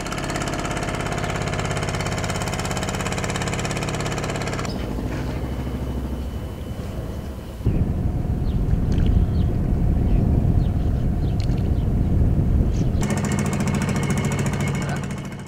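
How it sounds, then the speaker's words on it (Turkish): Fishing boat engines chug and rumble steadily at a lakeside fishing village, shifting to a louder, rougher throb midway, with faint voices now and then in the background. "Köyün genili uyurken balıkçı teknelerinin sesleri"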